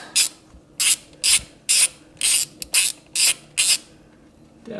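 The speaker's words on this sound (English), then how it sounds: "just working on taking out these bolts" Ratchet wrench clicking as bolts come out of a Polaris 570 engine, eight or so short bursts of ratcheting in a steady rhythm, close and loud, with brief pauses between.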